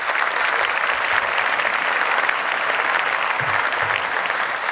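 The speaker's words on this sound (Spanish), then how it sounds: "Un aplauso para ustedes." Sustained applause from a large conference audience at the welcome of a national gastroenterology week in Puebla, steady and dense throughout with no one speaking.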